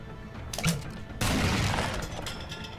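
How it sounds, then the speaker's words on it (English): In SteamWorld Heist a grenade is tossed with a short mechanical clink, then bursts in a loud crackling blast that slowly dies away. "No, I toss the grenade then."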